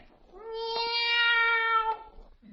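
A black cat gives one long, drawn-out meow, loud and close, with a rising then steady wail lasting nearly two seconds, alone with no talk.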